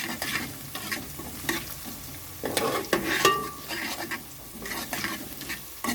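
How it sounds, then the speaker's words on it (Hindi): Ginger and garlic crackle in ghee while a spoon stirs and scrapes the pan in uneven bursts, a close, steady sizzle beneath the strokes, with no talking. "थोड़ी देर इसको घी में पकाएंगे।"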